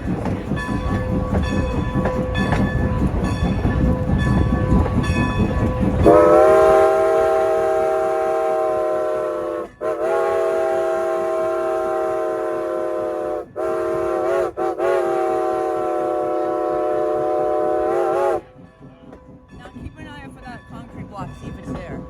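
A freight train, train 90, passes slowly with a red caboose. The rumble of the train comes first, then long, loud horn blasts with brief breaks between them. The horn stops and the rumble fades.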